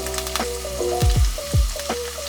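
Chopped garlic, about two and a half teaspoons, sizzles in a pan on medium heat for homemade pizza sauce, with a steady crackle and a few low thumps of the pan being handled nearby.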